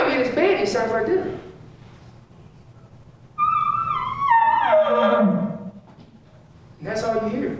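A hand-held elk call imitates the soft bugle of a bull elk lying in its bed. A brief voice comes first, then one high call rises and falls in pitch over about three seconds. More talk follows.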